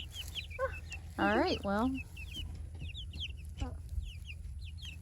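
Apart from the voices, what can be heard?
chickens clucking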